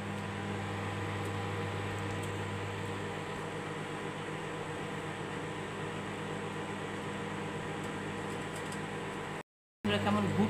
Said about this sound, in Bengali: কেমন ঘুরছে দেখুন মাইক্রোওয়েভে